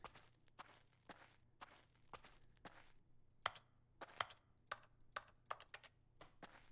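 Keyboard keys pressed one at a time in The Stanley Parable Ultra Deluxe, a dozen or so distinct, unevenly spaced clicks that grow sharper toward the end, heard up close in an otherwise quiet room.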